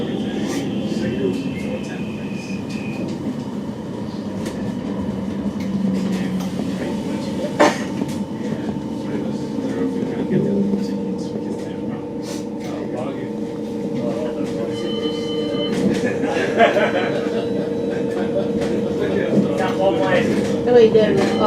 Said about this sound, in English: This tram terminates at Priestfield.